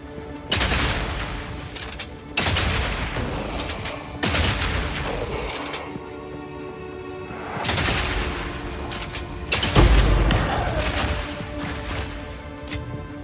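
Gunfire in the Path of Exile video game comes in several loud bursts of blasts and crashes with short gaps between them, some bursts ending in deep booms, and no voices.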